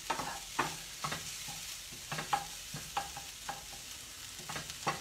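Onion frying in a pan: a quiet sizzle broken by repeated scraping stirs about every half second, close and soft, with no voices.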